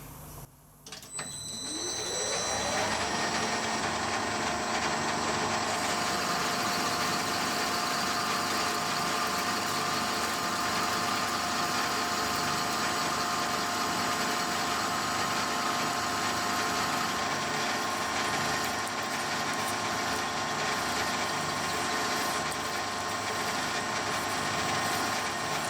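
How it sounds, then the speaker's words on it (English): A lathe turning at 315 RPM parts steel under power feed with coolant, a steady loud machine drone and whine starting after a brief quiet opening and continuing evenly throughout. "I'm going to run some coolant on this, and I'm running the lathe at 315 RPM, and I'm going to use power feed"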